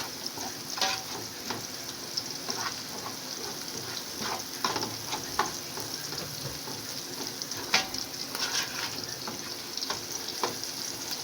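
Fava beans fry in a pan for an Egyptian-style ful dish, giving a steady, dense sizzle with frequent stirring scrapes and clicks throughout, close and alone with no voices.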